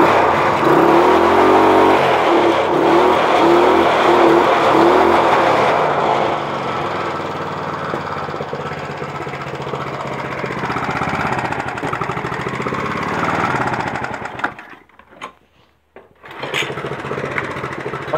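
A car engine starting roughly from cold, loud and close: a harsh uneven churning and revving for several seconds that settles into a rougher idle, sputters and nearly dies, then catches again with sharp irregular bursts.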